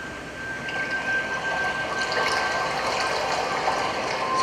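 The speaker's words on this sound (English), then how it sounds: "So this is water and bells, modulated by respiration." Soft, steady wash of water with faint bright bell-like tones swelling and fading as the flow is shaped by slow breathing, continuous and even with no voices.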